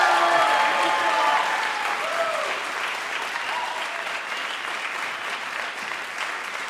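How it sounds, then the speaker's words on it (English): Live podcast audience at Tufts applauding a comedian's introduction, loud clapping with a few cheers and voices at the start, easing into steady sustained applause. "Ladies and gentlemen, big hand for my friend Myq Kaplan."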